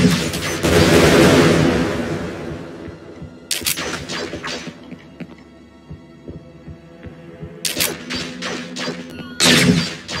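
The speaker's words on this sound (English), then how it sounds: "Somebody is firing from it." Gunfire in the PC video game Earth's Shadow, with a long loud burst up front, then clusters of sharp cracks near the middle and a final strong volley, all over a low rumbling hum.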